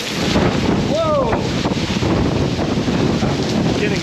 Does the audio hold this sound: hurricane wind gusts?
yes